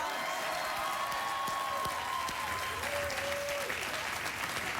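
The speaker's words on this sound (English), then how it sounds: "Go ahead, clap." A studio audience at a late-night talk show applauds steadily and loudly, a dense wash of clapping that holds evenly from start to finish.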